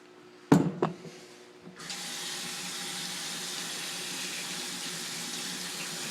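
Two sharp knocks of hard fire clay pebbles against a sink come first, then a kitchen tap opens into a steady, loud rush of running water as the pebbles are rinsed.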